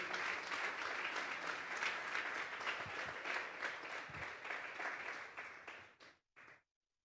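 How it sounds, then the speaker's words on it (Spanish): A church congregation at a Sunday morning service claps together in a full, steady ovation that holds for several seconds, then thins out and ends with a few final scattered claps before silence. "Démosle una ofrenda de palmas a Dios."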